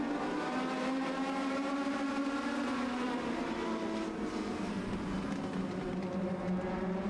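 Legend cars race at Irwindale Speedway just after the green flag, a continuous loud pack of engines droning and rising in pitch under the roar of the field, with no voices.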